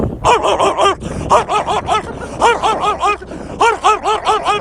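A dog barks repeatedly in loud, quick bursts, several barks in each run with short pauses between.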